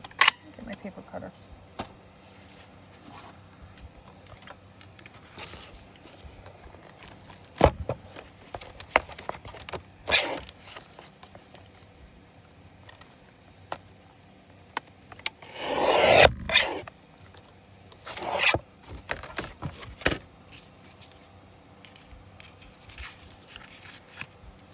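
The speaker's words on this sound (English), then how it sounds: "Get my paper cutter." A paper cutter trims stash paper for an art journal belly band, with several short, close slicing and scraping strokes and one longer rasping pass amid quiet handling.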